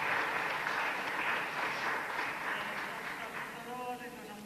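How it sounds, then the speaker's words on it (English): A round of applause from a conference audience at a session on costing for gender equality, steady dense clapping fading slightly toward the end, with a voice speaking faintly through it. "just a round of applause"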